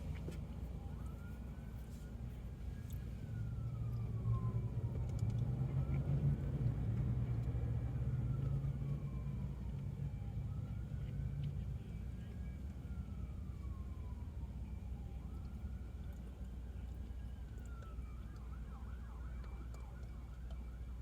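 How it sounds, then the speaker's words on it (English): An ambulance siren rises and falls in long repeated sweeps, fairly distant, over a steady low rumble of traffic and idling engines at the Wright Ave and Windmill Rd intersection. "I hear sounds like an ambulance siren."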